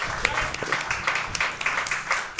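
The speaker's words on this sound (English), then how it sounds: "Let's get some claps for gameplay." An audience claps at a live Skyrim speedrun event, a dense, even wash of applause that fills the whole moment, with faint commentary voices mixed underneath.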